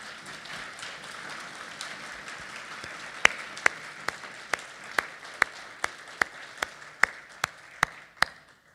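A crowd applauds candidates for an important public office at a civic panel forum, with steady broadband clapping throughout and a run of sharp, evenly spaced individual claps standing out near the microphone in the second half.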